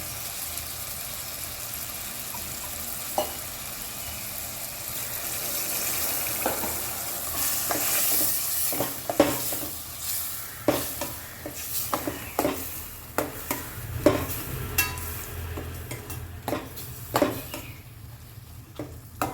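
Bitter gourd sizzles while being sautéed in a pan, with a steady frying hiss and frequent clacks of a spatula stirring.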